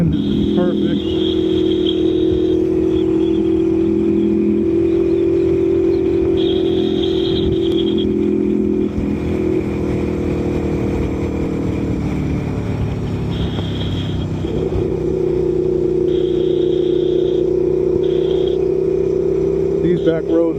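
A 2018 Aprilia Tuono V4 1100 Factory motorcycle rides along back roads with a steady loud engine drone and wind, shifting pitch between gears, with a voice talking over it.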